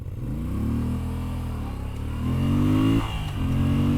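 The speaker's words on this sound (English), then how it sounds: "the way how that engine pops, and the way how it wants to do this" A Moto Guzzi V7 Sport motorcycle engine pops and revs, its pitch climbing and dipping as it accelerates, loud and close with a brief stumble near the end before pulling again.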